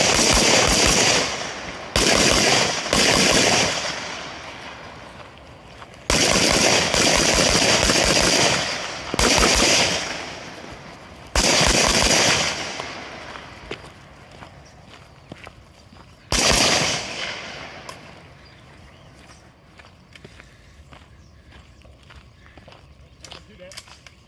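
Rapid gunfire on the short range stage of the Tarheel Challenge 2024 shooting competition, loud repeated volleys of shots in several separated bursts with echoing tails, a voice speaking between them.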